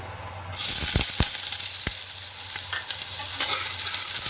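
Onion dropped into hot oil in a frying pan sets off a sudden loud, steady sizzle, with a few sharp clicks of stirring scattered across it, no talking.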